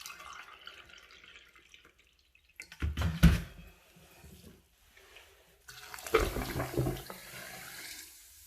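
White distilled vinegar poured onto baking soda in a shower drain, heard as two short splashing pours of liquid a few seconds apart, close and fairly loud, with quieter fizzing and drips between them and no talking.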